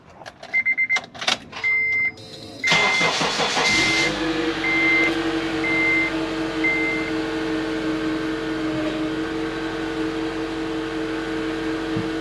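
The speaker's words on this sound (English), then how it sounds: "Now we're going to start up the vehicle." A 2008 Honda car engine cranks and then settles into a steady idle after a few sharp clicks and a series of short repeated beeps, with a faint hum continuing.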